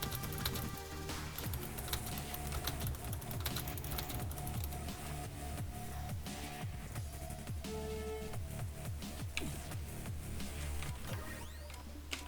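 Rapid clicking of keys on a computer keyboard during an online game session, a dense irregular patter close to the microphone over a steady background hum, with no talk.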